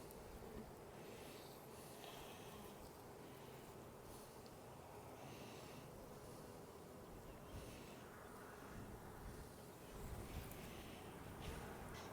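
Honeybees humming and buzzing steadily in an open hive during a beekeeping inspection, a close, dense drone with no talk, swelling slightly toward the end.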